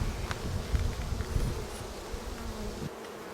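Honeybees buzzing around a beehive, a steady dense hum close by with a few louder passes of single bees.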